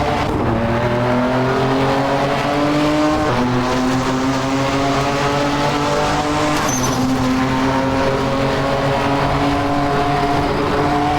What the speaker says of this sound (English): Let me know if the car sounds good enough for you in the comments.